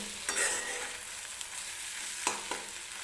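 Egg bhurji for a Maharashtrian egg curry (andyache kalvan) frying in a pan, a bright continuous sizzle with a few sharp stirring scrapes, close up and with no one talking.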